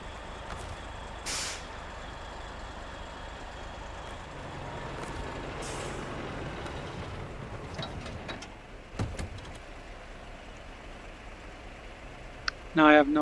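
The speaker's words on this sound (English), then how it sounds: "That's a real truck." Heavy truck engine in SnowRunner grinding along as a steady low drone, with short air-brake hisses near 1.5, 5.5 and 9 seconds, closing in a brief burst of beeping.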